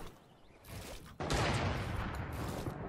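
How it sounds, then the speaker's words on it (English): Sniper fire in a Fortnite trios match: a sharp distant crack followed by a loud burst of gunfire and rumbling game noise, close and dense, with no talking. "I'm getting sniped at from the hill as well."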